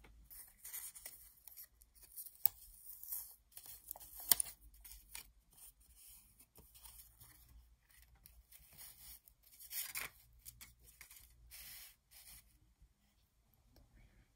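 Scissors snip through a shrink plastic sheet for a handmade tatting lace shuttle, the close, crisp cutting sounds scattered and intermittent with soft scraping and handling between the cuts.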